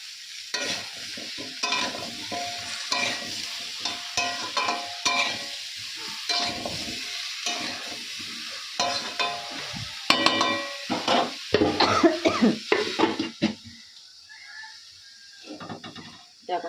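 Eggplant frying in a kadai in a home kitchen, a close sizzle broken by repeated stirring and scraping strokes, with some voice in the background.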